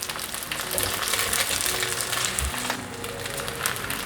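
Tofu slices pan-frying with king oyster mushrooms: a steady, close broadband sizzle runs the full length, with faint clinks of a spatula or chopsticks and no talking.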